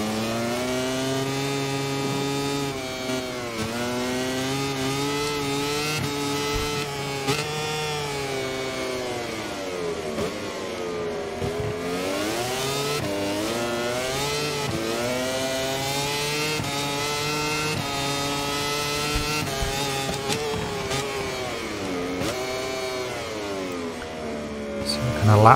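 A racing motorcycle engine in the video game MotoGP 24 at Jerez, upgraded to a more powerful engine, screams continuously through gear changes, its pitch rising and falling with brief shift dips throughout.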